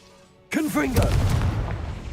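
A Confringo spell blast in the Hogwarts Legacy video game bursts in abruptly after a quiet moment, a loud booming explosion with a swooping, whistling tone at its start. The rumbling roar then carries on, sustained and dense.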